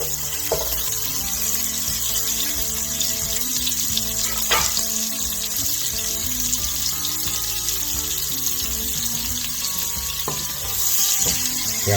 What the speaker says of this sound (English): Get our onions in there softening.